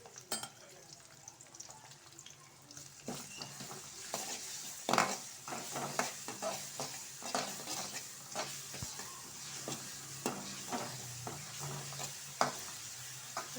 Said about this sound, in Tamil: இப்போது வெங்காயம் வந்து நல்லா வதங்கிடுச்சு. இப்போது இதில் கொஞ்சோண்டு நம்ம இஞ்சி பூண்டு பேஸ்ட்டு சேர்க்கலாம்.